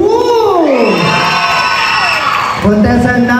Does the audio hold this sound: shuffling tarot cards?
no